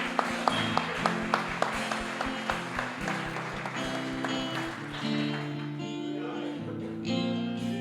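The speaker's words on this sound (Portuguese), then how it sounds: "Você pode aplaudir o Senhor, glória a Deus" Applause from a church congregation during a family worship service, with sharp claps opening over music-like tones that continue and swell underneath, the clapping blending into a sustained roomy wash.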